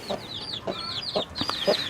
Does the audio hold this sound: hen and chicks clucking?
yes